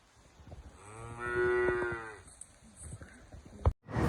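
Holstein dairy cattle with calves on a farm, one clear drawn-out moo rising and fading near the microphone over quiet barnyard background, followed by a sharp knock near the end.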